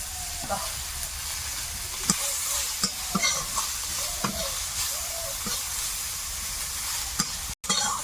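Whole spices, bay leaf, cumin, chopped onion and garlic frying in oil, a continuous close sizzle broken by repeated scraping stirs of a spatula against the pan.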